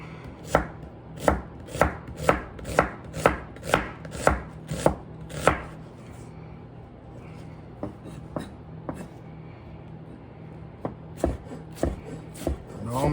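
A knife chops onion and cilantro on a cutting board in a quick run of crisp, evenly spaced thuds. The strokes slow to sparser cuts, then the fast chopping picks up again near the end, close and loud, with no voices.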